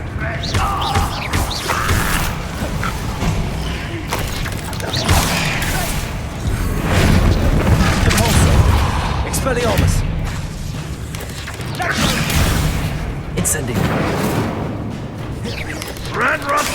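Incendio and Bombarda spells in the Hogwarts Legacy video game go off amid constant battle noise, with booms, whooshes and crashing impacts layered densely and loudly throughout, game voices occasionally speaking over it.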